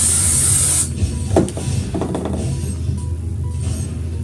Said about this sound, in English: And I'm going to spray the front.